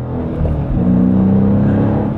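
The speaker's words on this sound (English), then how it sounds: "I floor it, and all of that just goes out the window because that engine sounds so good" Dodge Challenger R/T Scat Pack V8 rated at 485 horsepower, revving under full throttle from inside the cabin: a loud, steady low rumble that swells and holds for a couple of seconds with no talk over it.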